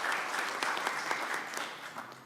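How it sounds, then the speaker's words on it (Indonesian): Crowd applause at an Indonesian political announcement naming a vice-presidential candidate for the 2024 presidential election, steady hand clapping from a large audience throughout. "Kita berikan tepuk tangan yang meriah."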